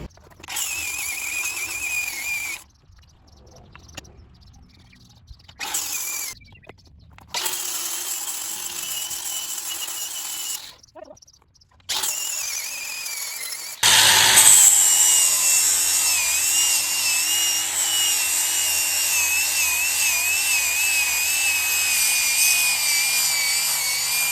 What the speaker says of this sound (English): we're going to sand until the battery dies